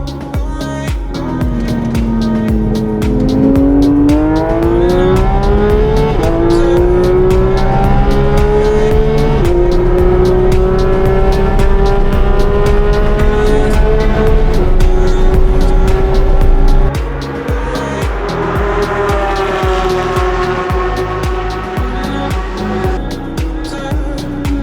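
A lizard green Porsche GT3 RS engine roars close and loud, revving up through rising gears with a steady high-pitched howl and a brief dip before climbing again.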